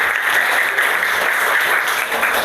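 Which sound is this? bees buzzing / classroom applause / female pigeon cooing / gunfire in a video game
classroom applause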